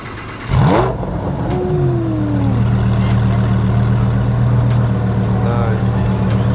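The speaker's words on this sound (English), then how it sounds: "Hey man, can you start the car for us?" A Mitsubishi Evo at a car meet cranks and starts with a sharp burst, then settles into a loud, steady rumbling idle with a brief rev, close by.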